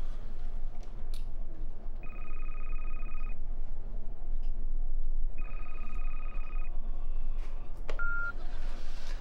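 A telephone ringing in two long electronic bursts separated by a pause, fairly clear over a low background hum, followed by a brief beep.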